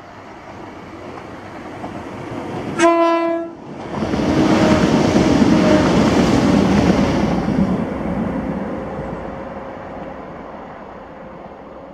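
A ScotRail passenger train on the Glasgow Queen Street to Inverness line at Blair Atholl gives a short, loud horn blast, then rumbles past close by for several seconds before fading away.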